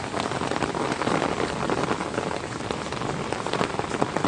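Heavy rain pours down around Rajkot, a dense, loud, continuous hiss of drops hitting surfaces with a scattering of sharper close splashes, and no voices.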